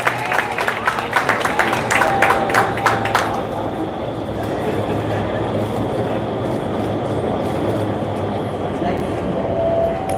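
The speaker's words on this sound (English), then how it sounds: "As you can see, as you can hear, the wind speed, the sound ramps down just because there's less power." An indoor skydiving wind tunnel fan roars in a dense, steady rush that fills the space. A few rapid clattering knocks come early before the roar settles into an even, continuous drone.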